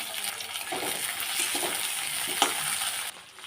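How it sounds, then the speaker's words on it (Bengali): Onion and spices fry in hot oil in a pan with tomato added, a steady, close, dense sizzle with faint stirring clinks that drops off sharply at the very end. "পেঁয়াজটা লাল লাল করে ভেজে নিয়ে আমি মশলাটা দিয়ে দেবো টমেটো দিয়ে দিলাম"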